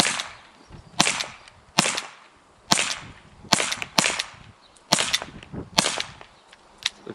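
An Umarex T4E cal.43 compact training pistol fires nine sharp, loud cracks at irregular intervals about a second apart, each with a short tail and no talk between them.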